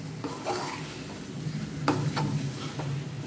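Fried brinjals stirred with masala in a pan, a steady sizzle of frying under a few soft scraping stirs and light taps of the spoon, close and fairly quiet.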